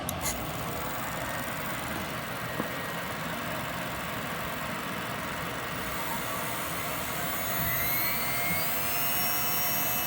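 An electric tool change motor runs with a steady, even whine and hum, loud and continuous with no pauses, vibration-free, and a faint rising tone near the end.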